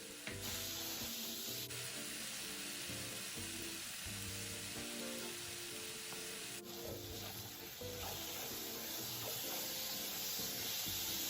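Pork belly and radish stir-fried in a wok with dark soy sauce, fermented red bean curd and cooking wine, giving a steady, close, broadband sizzle with scraping and stirring textures throughout and no talking.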